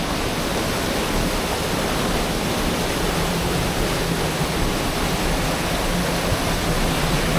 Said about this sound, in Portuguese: over here you can hear the waterfall